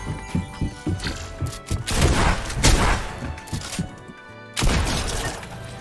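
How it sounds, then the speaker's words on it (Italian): Rapid bursts of gunfire from the video game Fortnite crackle in dense, irregular volleys with thumping impacts, briefly dropping out before a final loud burst. "E ora ti sparo in bocca."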